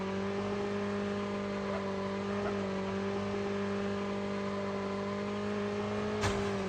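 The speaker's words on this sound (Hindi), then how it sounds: "ये बाइक क्या चीज है यार, ये तो सीधा ही अंदर पहुंचाएगी क्या हमें" Motorcycle engine in the Call of Duty Mobile battle royale game, holding a steady, fairly quiet drone with sustained revving and no talk, ending on a brief sharp click.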